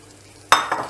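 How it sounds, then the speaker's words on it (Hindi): Deep-fried cauliflower florets are stirred into Manchurian sauce, a short quiet lead-in followed by a sudden loud burst of sizzling and scraping stirring that continues for a moment, with no voices. "डीप फ्राई की हुई कॉलीफ्लावर। ये सब चीज़ों को मिक्स करते हैं।"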